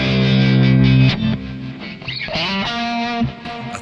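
Electric guitar with a neck P90 pickup played through a Kemper Profiler in a semi-clean tone with reverb and a wah, a loud sustained chord ringing, then picked notes and bends, alone.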